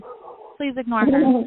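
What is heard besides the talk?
dog barking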